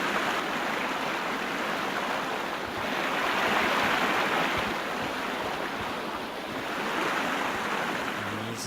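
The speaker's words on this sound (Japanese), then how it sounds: "水の音が大きい。" Flowing water in a Sherlock Holmes video game, a loud continuous rushing wash that swells and eases gently, with no voices over it.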